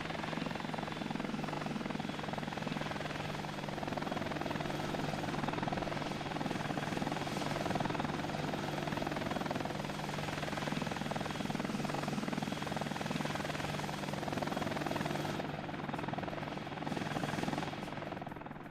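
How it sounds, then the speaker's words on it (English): Helicopter flying in the Soviet city-building game Workers & Resources: Soviet Republic, a steady rotor drone that holds at an even level throughout with no talk. "it takes a while for that helicopter to get there"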